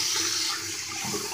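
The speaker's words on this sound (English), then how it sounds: "We're gonna put hot water." Hot water pours steadily onto a car in a short, continuous splashing rush, moderately quiet and close.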